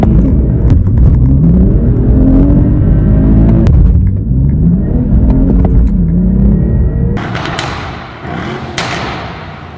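A 2013 BMW 335i engine revs repeatedly up close, its rising and falling pitch sweeping several times with thumps, then it settles to a quieter idle hum with sharper clicks toward the end.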